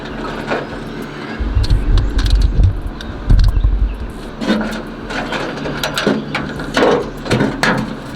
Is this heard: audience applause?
no